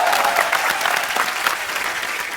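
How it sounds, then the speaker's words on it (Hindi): A studio audience at a comedy talk show breaks into loud, dense applause that holds steady through the short stretch, with no talking over it. "Stalin sir के लिए एक बार जोरदार तालियां"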